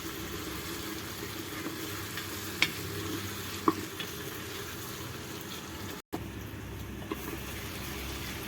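Food fries in about two cups of hot oil on a mud stove, a steady close sizzle and bubbling hiss throughout with a couple of sharp pops, and a brief cut near the end before the sizzle resumes.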